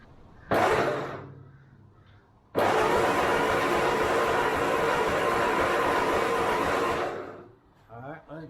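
A $500 Ford 8N tractor that has sat unrun for thirty years is started with the choke partly out. A short loud burst comes first, then a sustained rough, noisy roar lasting several seconds before it cuts off.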